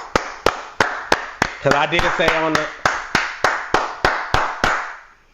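Regular hand claps for the Atlanta Falcons, about fifteen sharp evenly spaced claps at a steady beat, close and loud, with a brief spoken phrase partway through.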